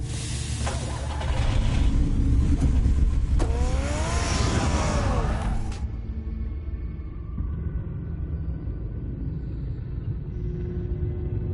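In the Batman Telltale video game, a car engine rumbles loudly and revs for several seconds, then drops away to a quieter, lingering hum.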